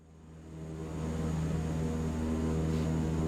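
Twin turboprop engines of a CL-415 water bomber in a flight simulator build up power on the takeoff roll, a steady droning hum with strong low tonal lines that swells gradually louder over a few seconds, with no talking.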